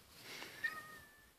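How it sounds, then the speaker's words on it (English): A cat indoors lets out a single faint, thin meow that rises briefly and trails off, set against quiet room hiss. "Oh, she meowing."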